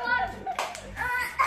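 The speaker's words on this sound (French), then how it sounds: "on applaudit" Children clap a few times at a birthday party, short scattered claps mixed with kids' voices chattering close by.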